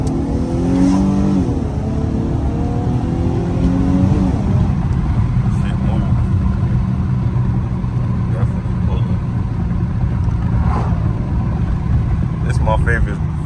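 An Infiniti G37 fitted with Stillen Gen 3 longtube intakes pulls hard in second gear, engine note rising and droning loudly and close, with someone talking over the acceleration.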